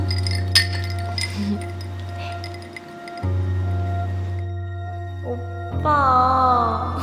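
Drinking glasses clink together in a toast among people drinking, with short bright chimes over a steady low hum and background music.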